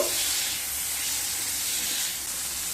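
A dozen or so prawns frying in melted butter in a pan make a soft, even hiss, fairly quiet and unbroken for a few seconds, with no talking.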